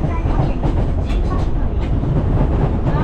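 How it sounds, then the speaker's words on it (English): Steady rumble of a metro train running through Japan, heard from inside a carriage, with faint rhythmic rail clatter and a continuous low roar throughout. "now I'm getting the metro to my hotel"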